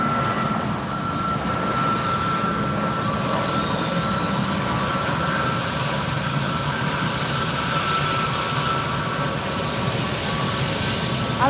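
JetBlue jet on low approach landing at Fort Lauderdale airport, a loud continuous engine roar with a faint whine, holding steady throughout without speech.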